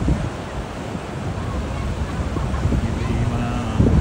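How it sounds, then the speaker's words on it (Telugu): Niagara Falls on the Canadian side roars as a steady broadband wash of falling water, with wind buffeting the microphone throughout. "ఇది కెనడా నుంచి పడేటువంటి వాటర్ ఫాల్స్."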